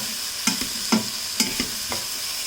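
Spice powders (turmeric, Kashmiri chilli and garam masala) being stirred into spaghetti vegetables frying in a pan, a soft sizzle under four or five distinct scraping strokes at an even pace, close by.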